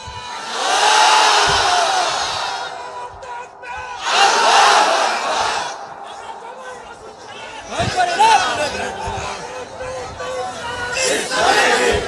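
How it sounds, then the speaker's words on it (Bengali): A crowd of married men at an Islamic political gathering shouts takbir, Allahu Akbar, in loud massed bursts, with several surges of voices separated by brief lulls. "বিবাহিত ভাইরা তাকবীর দেন, দেখি কার গায়ের জোর আজকে কত বেশি।"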